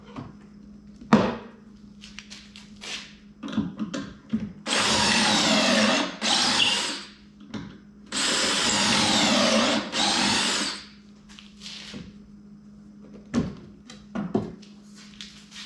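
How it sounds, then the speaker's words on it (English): A power drill bores pocket holes in wood while a raised garden bed is being built, with two loud sustained bursts of whirring and grinding, each a couple of seconds long. Short knocks and handling clatter of wooden pieces come before and after them. "just something to think about when you're drilling your pocket holes."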